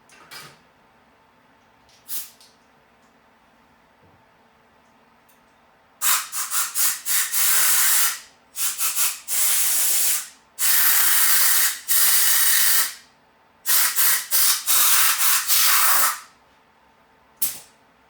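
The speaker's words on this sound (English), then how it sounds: "Let me go over here to my air compressor. And blast it, just to make sure there's no dust in there." Compressed air from a shop compressor blasts dust out of an Allis Chalmers D17 tractor carburetor in a series of short, loud hissing bursts with brief pauses between them, close up, after a couple of faint puffs.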